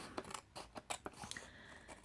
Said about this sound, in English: I'm just going to trim with my scissors